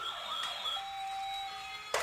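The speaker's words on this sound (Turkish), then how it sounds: "Tamam hadi hadi çabuk itfaiye gelsin çabuk." Toy fire truck siren wailing steadily with electronic tones, close and fairly loud, no talking over it, ending in a brief louder click or knock.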